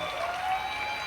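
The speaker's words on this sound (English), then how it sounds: "She's clapping." A single person claps at a home Oscars viewing party, a short run of light, fairly quiet claps close by.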